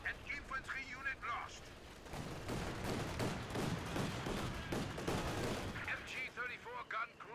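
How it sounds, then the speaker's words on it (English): Dense, continuous MG-34 machine gun fire in a World War II video game, heavy and sustained for several seconds, joined by scattered other shots and explosions. "MG-34 gun crew ready for action."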